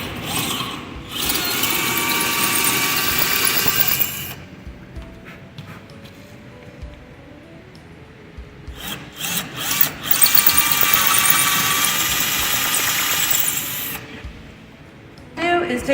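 A power drill enlarges pilot holes in a wall to take wall plugs: two sustained high whining runs, close and loud, separated by quieter handling noises and brief clicks, with a short final burst at the end.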